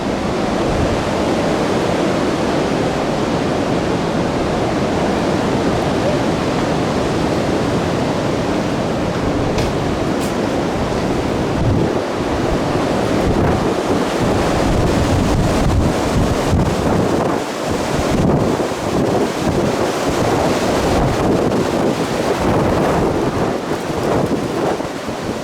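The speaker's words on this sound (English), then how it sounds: "You can hear the wind as the storms start moving in." Strong wind buffets a hilltop as storms move in, a dense continuous roar with gusty surges and microphone rumble, unbroken for about twenty-five seconds.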